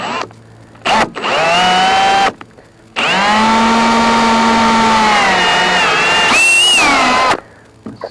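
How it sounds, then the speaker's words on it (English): A power drill with a 1/8-inch bit whines at high speed in two long bursts with short pauses between, loud and close, the pitch dipping slightly under load while installing a bimini top on a boat. "I'm going to start with that smallest 1/8 size drill bit"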